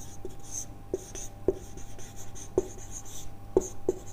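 Marker or chalk writes on a board during a chemistry lecture, giving sparse tapping strokes and short scratches at irregular intervals. Faint room hum runs underneath, and no one speaks.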